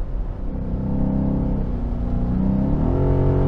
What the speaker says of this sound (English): that sweet sounding engine now just makes a lot more sense with the V8